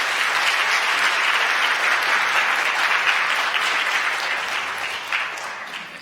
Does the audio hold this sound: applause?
yes